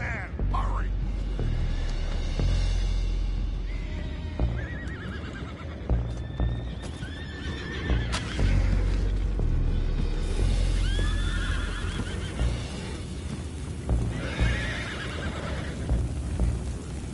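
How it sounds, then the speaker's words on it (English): Several horses whinny and neigh repeatedly over a steady rumble in the video game Red Dead Redemption 2, with hooves clopping and voices talking throughout. "The horses are confused. We need to round them up."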